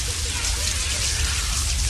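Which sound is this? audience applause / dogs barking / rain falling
rain falling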